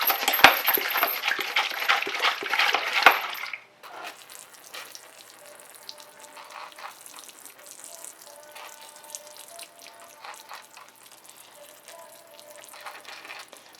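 Water is poured steadily into a seed starting tray for habanero pepper seeds, a loud splashing stream for a few seconds that cuts off, followed by faint soft trickling and dripping as the soil soaks it up.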